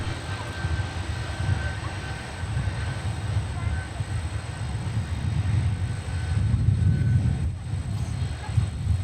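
An airliner takes off from runway 30 right at Minneapolis–St. Paul airport, a broad, steady engine roar and rumble that swells slightly toward the end.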